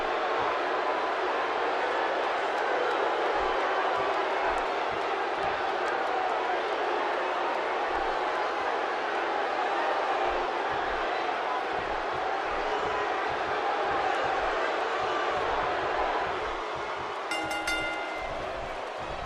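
A crowd at a wrestling event roars in a dense, continuous wash of noise that holds steady for the whole stretch, with a few brief sharp knocks near the end.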